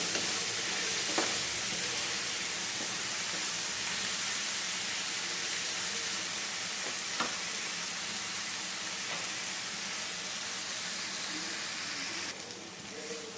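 Spring onions sautéing with ground spices, peanuts and coconut for a Khandeshi eggplant bharit make a dense, even sizzle in the pan. A few faint stirring clicks sit under it, and it stays steady and moderately loud throughout.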